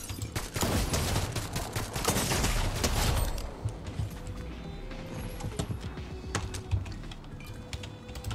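Gunfire in a multiplayer video game shooter: rapid, loud bursts crackle close for about three seconds, then thin out into scattered single shots and clicks over quieter game ambience.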